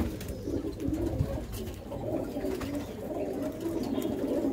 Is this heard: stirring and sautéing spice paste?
no